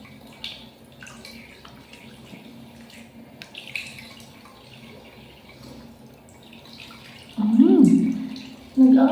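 Tap water runs steadily in the background with faint splashing, then louder gushes of water come near the end, with a person talking quietly over it.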